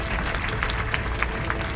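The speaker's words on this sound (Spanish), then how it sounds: "glorifiquemos a Cristo con nuestros palmas" Church congregation clapping hands together, a dense continuous patter of many palms with occasional sharper individual claps standing out.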